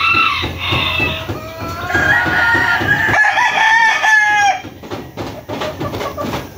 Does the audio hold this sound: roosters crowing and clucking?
yes